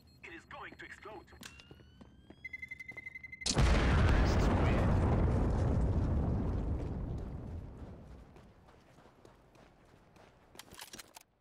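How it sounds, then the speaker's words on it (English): A video game explosion in CS:GO / Attack on Titan play: after a few quiet beeps and small game noises, a sudden loud blast bursts in and rumbles, fading slowly over several seconds before faint clicks return. "Get ready. It is going to explode."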